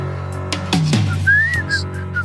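A person whistles a short wavering tune with a few sliding notes, broken by breathy laughter and voice sounds.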